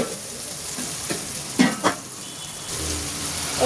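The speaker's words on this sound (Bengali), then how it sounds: "পেঁয়াজ কিন্তু বাদামের মতো লাল হয়ে গেছে, এটা একটু ভেজে নিই" Onions fry in a pan with a continuous close sizzle, broken midway by a couple of sharp stirring scrapes and clinks.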